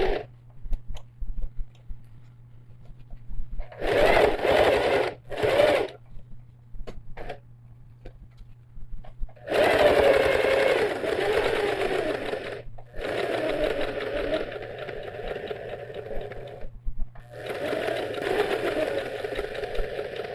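An industrial-sounding sewing machine topstitches a backpack in several sustained runs of rapid, buzzing stitching, separated by brief stops with a low motor hum beneath, all loud and close.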